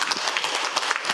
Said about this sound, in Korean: 오늘 차지호 의원님을 특별히 박수로 모셔주시면 감사하겠습니다